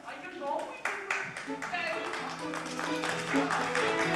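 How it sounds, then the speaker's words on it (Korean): Clapping from a symposium audience thanking a discussion panel, a moderate patter of hands under a host's continuing speech. "여러분 큰 박수 부탁드립니다"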